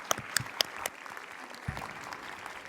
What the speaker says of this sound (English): Ladies and gentlemen, please give a warm round of applause to welcome the Honorable Governor of the State of Veracruz